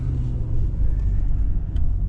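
A car drives through slow airport-bound traffic in Virginia, its steady low road rumble and engine drone filling the cabin, loud and continuous with a faint tick near the end.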